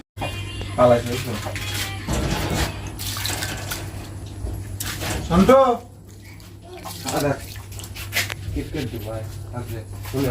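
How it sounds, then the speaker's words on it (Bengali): Starchy water from boiled rice splashes and trickles as it is strained off in a home kitchen, in uneven pours and drips with a couple of louder gushes, while someone talks over it. "এই ভাত সেদ্ধ হয়ে গেছে ভাতের মাঠটা ছেঁকে নিচ্ছি"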